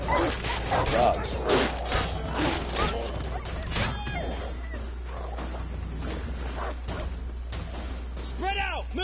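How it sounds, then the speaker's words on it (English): Dogs barking in The Witcher 3 video game, with several yips and barks scattered through a noisy game scene, mixed with shouting and other voices. "Dogs."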